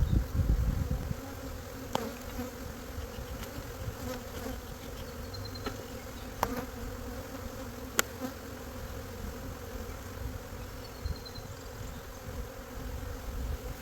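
Honey bees swarm around brood-packed frames being shaken into a nuc box, a continuous close buzzing drone with occasional sharper wingbeat passes and light handling knocks, no voices.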